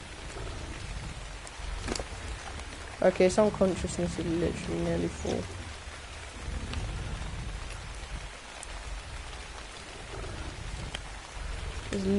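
Steady video-game rain patters throughout while someone talks over it, with a faint low rumble in the background.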